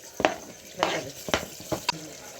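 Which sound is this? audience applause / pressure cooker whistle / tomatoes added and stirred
tomatoes added and stirred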